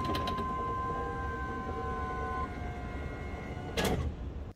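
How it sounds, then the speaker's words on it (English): Power window motor on a 1982–92 Chevrolet Camaro door, a steady whining hum as the glass rolls down for several seconds, ending in a clunk as it stops. "Lastly, roll the window down so you can reinstall your inner door panel."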